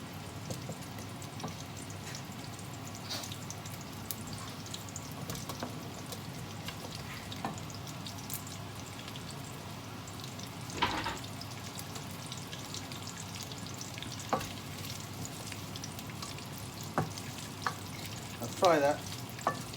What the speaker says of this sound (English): Fry that so it turns a little bit brown.